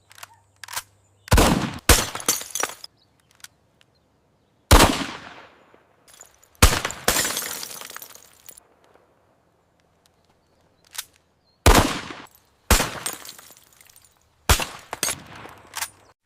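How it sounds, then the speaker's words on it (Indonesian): Sharp gunshots from a sighted firearm aimed at a target, fired as a string of separate loud, close cracks with short echoing tails and brief irregular pauses between them, some shots coming in quick pairs. "Lalu arahkan ke target, bidik dan tembak."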